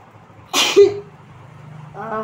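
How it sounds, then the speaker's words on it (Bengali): One sharp, close sneeze from a person with a cold bursts out of a quiet room. A short hum of voice follows it. "একটা হাঁচি হলো"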